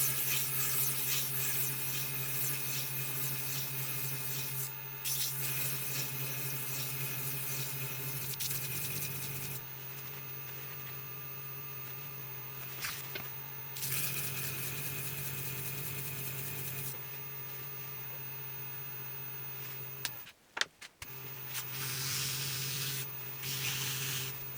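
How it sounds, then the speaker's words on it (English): A CBN lathe tool is ground on a slow-speed diamond lapping machine fitted with a 1200 grit diamond wheel and wetted with WD-40, giving a steady, bright whirring hum with a few short breaks and one brief clatter near the end. "I'm starting with a 1200 grit diamond wheel on the slow speed diamond lapping machine with some WD-40 as cutting fluid."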